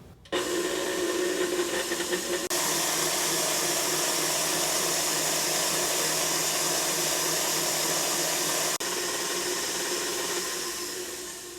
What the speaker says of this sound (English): keep whipping till it looks like it's nice and foamy